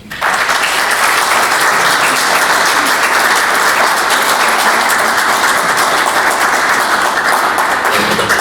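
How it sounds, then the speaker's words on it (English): Audience at an anthology launch at the State Library of New South Wales breaks into loud, sustained applause, a dense, even roar of many hands that starts sharply and carries on for about eight seconds. "I invite you now, please, to appreciate them with a round of applause."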